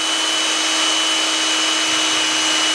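A Datsun truck kingpin turned by hand inside emery paper, a steady, unbroken high hiss of abrasive sanding with an even whine and no pauses.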